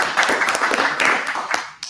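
Audience applause at a London tech meet-up, a dense burst of many hands clapping close and loud for under two seconds before tapering off abruptly.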